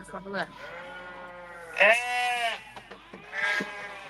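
Sheep bleat during a shearing session, with three loud, wavering bleats close by. Between the calls there are shorter bleats and faint farm voices.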